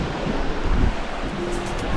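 Surf on a beach in Zanzibar, a close, loud rumbling wash of waves with wind buffeting the microphone, continuous and churning.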